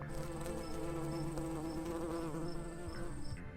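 A comedy buzzing-bees sound effect: a steady, droning insect hum with a slightly warbling pitch, continuous and fairly faint, with no voices.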